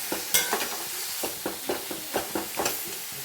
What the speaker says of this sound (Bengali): তাই মাংসটাকে এইভাবে একটু ভেজে নেব আমি।